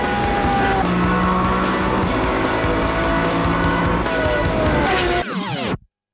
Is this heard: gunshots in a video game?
no